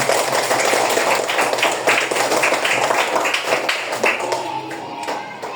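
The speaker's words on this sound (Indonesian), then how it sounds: "Tepuk tangan dulu untuk kelas 5C." A class of primary-school pupils claps together in a classroom, a dense, steady patter of many small hands that carries on for several seconds, close and fairly loud, then begins to thin out near the end.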